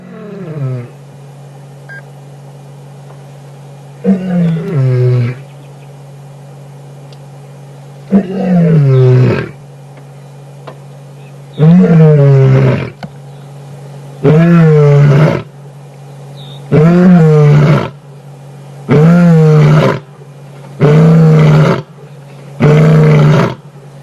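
A lioness roars repeatedly from close range on an African sunset game drive, a series of about nine deep, very loud bellowing calls in a steady rhythm, each lasting around a second, with short grunting gaps between them and no talking.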